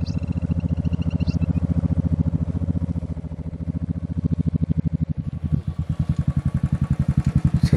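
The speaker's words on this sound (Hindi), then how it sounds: "हाँ आवाज ही आ रही है" A motorcycle engine thumps in a steady, rapid, pulsing rhythm that grows louder and closer, with a brief clatter partway through, while a faint high whine fades early on.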